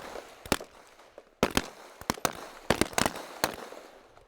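Rifle fire on a shooting range during a training relay rings out as a series of sharp, separate cracks, some single and some in quick pairs, with quiet gaps between shots and a faint distant reverberation.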